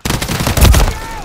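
Rapid gunfire in the video game Call of Duty: Modern Warfare III, loud and close, a dense burst of shots with a heavy low impact in the middle and a faint whine trailing off.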